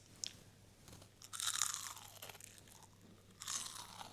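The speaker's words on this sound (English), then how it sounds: "And now the test of truth, the test of the crunchiness." Bite into a crispy fried squash blossom stuffed with ricotta: a loud close crunch, then a longer crackling crunch a moment later, followed by quieter chewing, with no talking.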